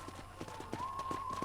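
Horse galloping in Red Dead Redemption: faint, rhythmic hoof thuds at a steady running pace beneath a sustained whistle-like musical tone.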